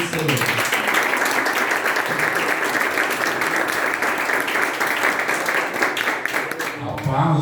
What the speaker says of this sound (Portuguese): as palmas louvam o nome do Senhor